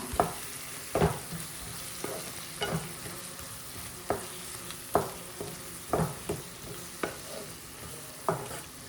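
Two chopped tomatoes sizzle in a hot pan while a spoon stirs and scrapes them in repeated even strokes, about one per second, over continuous close frying hiss, without any speech.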